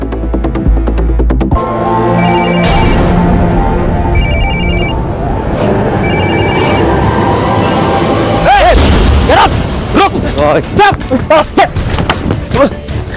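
A telephone rings after a number is dialled in a Hindi police crime drama, a repeated ring tone heard over loud dramatic background music with booming hits.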